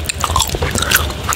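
Close-up wet chewing of peppermint gum outdoors in a garden on a rainy day, with continuous sticky smacks and soft clicks filling the whole moment.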